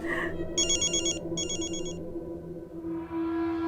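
Telephone ringing in two clear bursts of electronic trilling over a low steady hum, with no voices during the rings.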